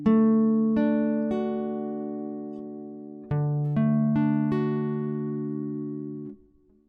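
A barre chord on guitar strummed and left ringing, then struck again several times in a steady sequence, clear and sustained with no voices.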